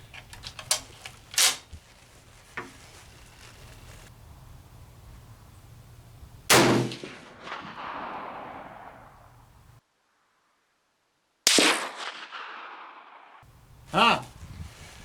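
Shots fired at an outdoor shooting range, a few sharp cracks spaced irregularly with clicks and handling noises in between, while people talk nearby.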